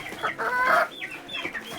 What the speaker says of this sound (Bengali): আমাদের মুরগির বাচ্চাগুলো